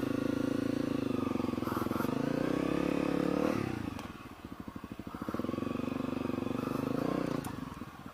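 A dual sport motorcycle engine labors while stuck in mud, a loud steady drone that drops briefly around the midpoint and then revs back up, with a clattering, chugging texture throughout.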